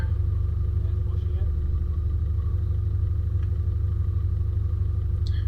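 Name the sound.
4WD vehicle rolling over a log on a track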